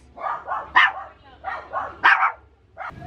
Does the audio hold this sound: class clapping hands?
no